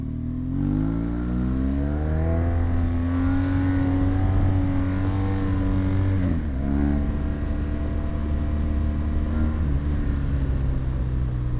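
A BMW motorcycle engine idles and revs in steady, sustained bursts, its deep droning note rising and falling, close and loud with no talk over it.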